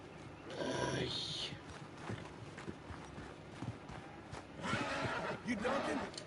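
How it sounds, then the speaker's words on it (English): A horse in Red Dead Redemption 2 whinnies once early, followed by hoof clip-clops and movement, with spoken dialogue over it. "Need a hand with that horse?"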